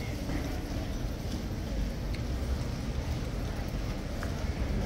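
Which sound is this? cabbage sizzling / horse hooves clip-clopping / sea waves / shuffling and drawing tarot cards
horse hooves clip-clopping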